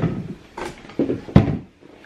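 A drawer in a family home opens and closes, giving several short knocks and slides, three distinct bursts over about two seconds, close by, with no talk.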